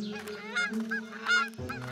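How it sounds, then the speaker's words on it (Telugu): Large ducks or geese honking over and over at close range while grazing on a grassy meadow, loud, overlapping honks with no talking. "బాతుల్ని మేపడం ప్రారంభించింది"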